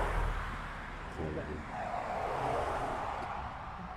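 A stream of cars passing on a road, steady whooshing traffic rising and falling at moderate distance, with speech over it.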